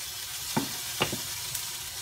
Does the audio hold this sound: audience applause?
no